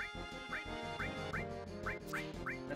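A bird-like enemy creature in Final Fantasy VII gives a series of repeated squawking cries, evenly spaced over a dense, steady game music bed.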